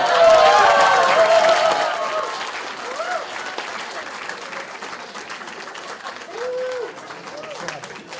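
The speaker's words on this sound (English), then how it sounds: "Another round of applause, folks." Audience applause after a 2D animation student presentation, loud at first and then thinning into scattered claps, with people talking over it.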